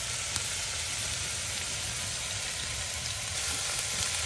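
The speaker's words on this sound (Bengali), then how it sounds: "আর মশলাটা ভাজা হবো।" Ground spice paste of cumin, ginger, garlic and garam masala frying in oil on a clay stove in a village kitchen makes a steady, broad hiss with a low rumble of fire underneath and no speech.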